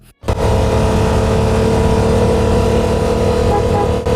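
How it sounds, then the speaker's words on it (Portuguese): A luxury car engine roars loudly and steadily after a brief quiet start, a sustained close-up drone with no talking over it. "O passeio com solavancos e o ronco do motor ajudam a criar vínculo com seu carro."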